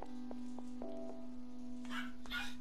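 Dogs bark in the Dead Island video game, a few short yips spaced out over a steady background drone, followed by a couple of louder, harsher bursts near the end.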